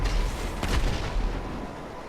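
Gunfire erupts in Grand Theft Auto 5, a loud booming blast followed by rumbling reports and a decaying roar, close and dense over about two seconds.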